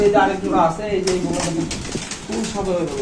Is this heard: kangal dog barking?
no